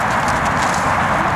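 Hoofbeats of a five-year-old Arabian gelding walking under a rider on his first ride, a steady close clip-clop with no talk over it.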